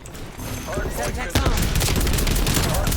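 Rapid shotgun blasts from the Street Sweeper in Call of Duty: Black Ops Cold War, a hardpoint match, with dense rapid-fire booms that kick in loudly after a quieter opening and run on continuously, mixed with game sounds.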